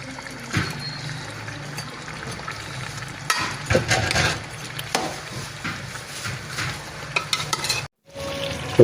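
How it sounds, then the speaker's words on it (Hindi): Minced chicken with peas and potatoes being stirred and fried in oil in a pan, a continuous sizzle with scraping spoon strokes and brief clatters close by. "अब हम जो है आलू ऐड कर दिया हमने। अच्छे से मिक्स कर लेंगे।"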